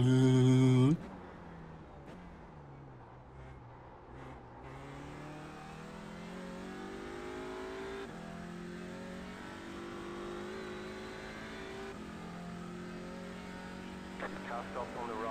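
A car engine revs steadily, holding a smooth droning tone that rises and falls gently over several seconds after a brief loud start.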